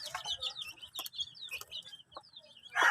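A mother hen with chicks clucks in a close run of short, repeated calls, with chick peeps mixed in and a louder squawk at the end.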